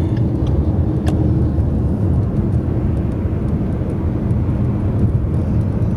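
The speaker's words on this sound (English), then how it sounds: "the vehicle in front of me that's going all over the place that I'm about to pass now" Steady road noise and engine drone from a car driving along a road while overtaking an erratically moving vehicle ahead, a continuous loud rumble with no talking.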